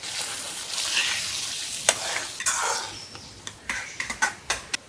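Baim fish cooking in a pan with spiced coconut paste of garlic, turmeric and chili gives a soft, faint sizzle, broken in the latter half by several sharp clinks and stirring scrapes.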